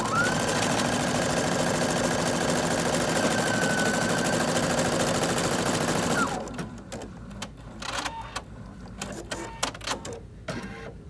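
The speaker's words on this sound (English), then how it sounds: "we're now ready to start stitching our actual design. Using the start stop button, select that, and it's gonna start with the first letter of Luke's" A Viking Brilliance 80 sewing machine stitches a lettering embroidery design, a loud rapid mechanical whirr with a steady rising and falling tone for about six seconds, then stops and leaves quieter intermittent clicks and rustles.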